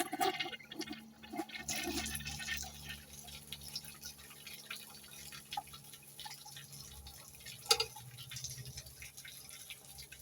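A clogged household toilet is flushed, giving a faint, steady wash of running and gurgling water with scattered drips and a small clunk partway through.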